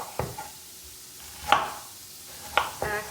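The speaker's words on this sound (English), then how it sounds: "let me finish slicing this cabbage very thin" Knife slicing cabbage very thin on a cutting board, a few sharp separate cuts spaced about a second apart, moderately close and quiet, with no talking.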